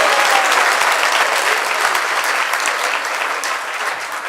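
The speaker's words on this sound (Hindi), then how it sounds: "हाँ, बजाओ बजाओ, ताली बजाओ" A devotional audience claps steadily through a Mangal Aarti lecture at a Vyasa Puja gathering in Udhampur, dense sustained applause that eases slightly toward the end.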